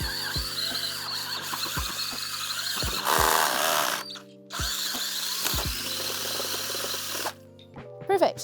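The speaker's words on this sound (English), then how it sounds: "I actually rest the drill against my inner thigh." A power drill bores a hole in garden soil for planting daffodil bulbs, whirring steadily in two long runs with short pauses and small thuds between them, close and loud over faint talk.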